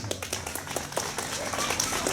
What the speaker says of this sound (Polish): Brawa dla niego oczywiście.